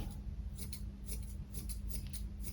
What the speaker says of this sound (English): You just got to be very, very careful with scissors on cats.